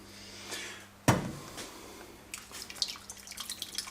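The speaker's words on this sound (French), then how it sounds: "Le reste du bouillon, tu le remets dans le plat." Leftover beef bourguignon broth poured back into the cooking dish, a sudden splash followed by trickling and dripping liquid, then scattered small drips and clinks close by.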